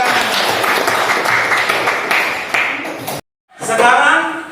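Students in a classroom applaud together, a steady burst of dense clapping lasting about three seconds before cutting off abruptly, followed by a voice speaking.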